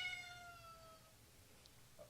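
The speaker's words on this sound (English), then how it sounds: "I think the cat's upset that he's stuck in here now" Indoor cat shut in a room gives one short, high meow at the start, fading into quiet room hiss with faint small knocks after.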